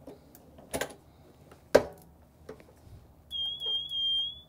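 A heat press timer sounds a steady electronic beep, a single sustained high tone lasting about a second near the end, after a few clicks and knocks as a rubber coaster is pressed.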